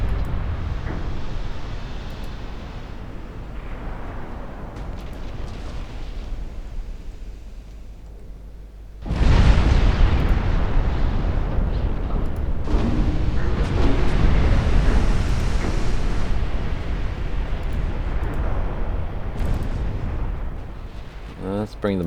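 Naval guns fire and shells explode in Ultimate Admiral Dreadnoughts, a steady low rumble at first and then a sudden loud barrage that keeps booming. Someone talks over the battle.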